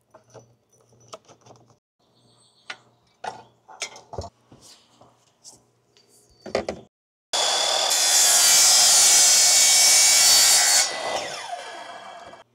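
A handheld round saw cuts through a PVC pole, starting after several seconds of light knocks and handling clatter, then a loud, harsh, close grinding whine for about four seconds that fades as the cut finishes.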